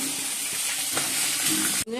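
Fish frying in a pan for a home-cooked Bengali meal, a steady close crackling sizzle that runs unbroken with no talk and then cuts off abruptly near the end.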